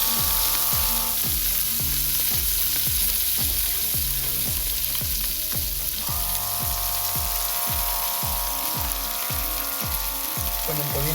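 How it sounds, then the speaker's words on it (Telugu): Ginger garlic paste fries in a pan for bagara rice, a steady sizzle running through the whole stretch beneath a loud, regular rhythmic beat of background music. "అల్లం వెల్లుల్లి పేస్ట్ పచ్చి వాసన పోయే వరకు ఫ్రై చేసుకోవాలి"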